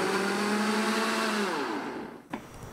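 A kitchen blender mixes cake batter with a loud, steady whir that winds down after a couple of seconds and ends with a short clunk as the motor stops.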